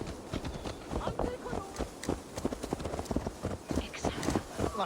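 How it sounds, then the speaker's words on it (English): Horse hooves in Assassin's Creed Valhalla thud in a quick, even clip-clop rhythm close up, steady for several seconds beneath faint game background sound. "Let's return the horse."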